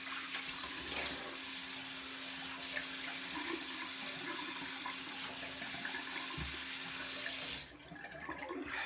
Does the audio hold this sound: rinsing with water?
yes